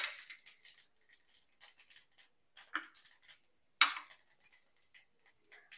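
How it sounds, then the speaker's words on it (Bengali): Five-spice tempering fries in hot mustard oil in a wok, giving bursts of crisp crackling and spitting that come in irregular waves with brief quiet gaps, close and clear, with no voices. "তেলটা দেওয়ার পর আমি কড়াইয়ের মধ্যে দিয়ে দিচ্ছি 5 ফোড়ন।"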